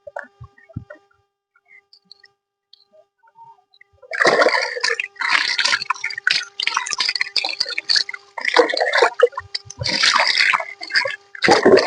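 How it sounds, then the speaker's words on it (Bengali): Water pours and splashes in uneven bursts while hair is rinsed, starting faint with scattered drips, then turning loud and steady for the last several seconds, with no talking. "দেখুন জলটা পড়ছে একদম কালো কুচকুচে জলটা দেখুন"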